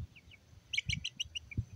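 Young chickens outside in a yard give a quick series of soft, high chirps, repeated in a rapid cluster, faint and close with light background thumps.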